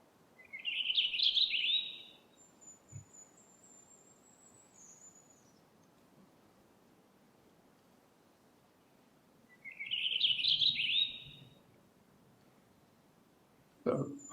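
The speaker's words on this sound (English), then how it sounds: "it's a purple finch" Purple finch song played from a recording: two bright, warbling bursts of rapid notes, clear against a quiet background with faint low rumble, a thin whistled tone between them and a brief knock at the end.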